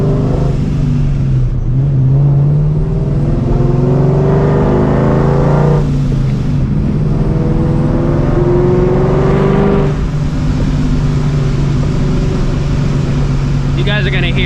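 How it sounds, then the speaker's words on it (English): A straight-piped, supercharged New Edge Mustang GT revs hard at night around town, its loud rasping exhaust climbing and falling in repeated pulls, with blow-off valve releases between revs echoing off nearby trees and walls. "You guys are gonna hear all of that blow off valve."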